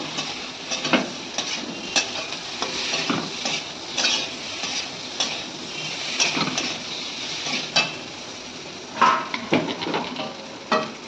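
Potatoes, boiled and then fried, are stir-fried in a spice masala, giving a sizzling hiss under repeated spatula scrapes and metallic clinks against the pan at an irregular rhythm, with no one talking.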